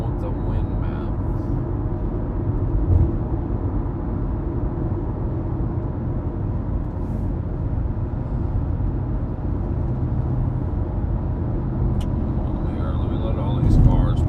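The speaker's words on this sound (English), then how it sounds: "Let me let all these cars pass, man." Cars pass steadily along a nearby road, a continuous low traffic rumble filling the whole stretch with a slight swell near the end as one vehicle goes by close.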